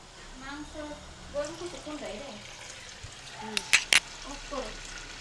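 Potato and Maggi noodle pakoras fry in hot oil with a soft bubbling sizzle, while a voice talks over it and a few sharp metallic clinks cut through.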